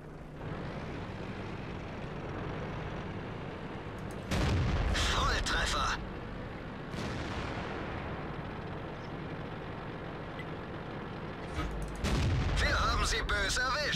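Heavy tank cannon blasts in World of Tanks boom out twice, each a loud broadband burst with a ringing tail, over a steady engine-like rumble.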